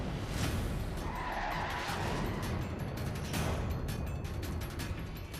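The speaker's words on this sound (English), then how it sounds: "we just broke and hit the safety truck" A race car at Daytona skids and scrapes along, ending in a hit on the safety truck: a continuous loud rushing, grinding noise with tire-scrub texture lasting several seconds, no voices.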